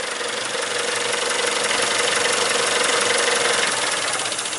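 A 2003 Mazda Protege engine with a misfire at idle runs close and loud, a steady rumbling idle that eases slightly as the idle air control valve is unplugged, with no talking.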